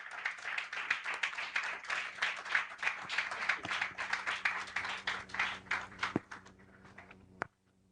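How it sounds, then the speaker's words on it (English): An audience applauds to welcome a lecturer at a public lecture, a dense burst of clapping that runs steadily for about six seconds, then thins to a few scattered claps and a last single clap. "let's show our love and welcome Prof with a resounding applause"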